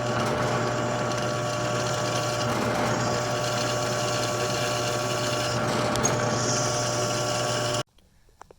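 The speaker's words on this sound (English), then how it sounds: "I got this little flat piece that I just drilled on there" Electric drill running steadily on a small flat metal piece in a workshop building a plasma table, a continuous whirring motor hum that stops abruptly near the end; no one talks.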